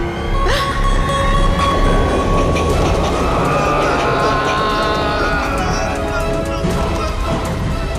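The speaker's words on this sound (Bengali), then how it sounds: "আন্টি ট্রেন এদিকেই আসছে।" A train rumbles in loud and close, a steady heavy roar of wheels on rails with metallic squeals and clattering bursts throughout, with no voices over it.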